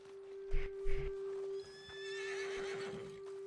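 A horse in the video game Red Dead Redemption 2 whinnies with a rising, drawn-out call after a couple of heavy hoof thumps, over a steady electronic hum.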